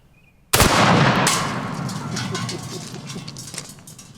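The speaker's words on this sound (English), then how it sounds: "All right, 12 gauge shotgun slug" A 12 gauge shotgun slug strikes a helium tank in one sudden, very loud blast that rings out and decays slowly over several seconds outdoors.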